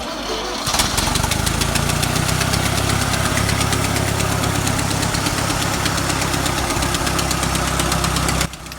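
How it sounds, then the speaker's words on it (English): A Nuffield Universal M4 tractor engine, started on petrol and later switched to paraffin, runs loud and close with a steady, throbbing knock, then cuts off abruptly near the end. "this tractor is started on petrol fuel, and then as the engine gets warmed up it's changed over to run on paraffin"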